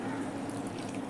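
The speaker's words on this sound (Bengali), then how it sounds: "জলটা অল্প বেশি দিতে হবে" Water poured into a pot of lentil-fritter curry with potato and pointed gourd, a steady soft liquid rush running continuously at low level.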